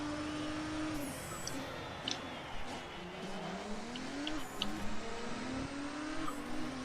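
A race car engine in Race Driver: GRID revs steadily and climbs in pitch during a touring-car GP race, with faint tire and track noise alongside and no talking.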